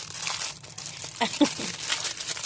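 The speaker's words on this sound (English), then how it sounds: "Sorry guys for all the crinkling." Plastic packaging around a new resin mold crinkles and rustles in short, soft bursts close by, with a few sharper crackles midway under a low steady background.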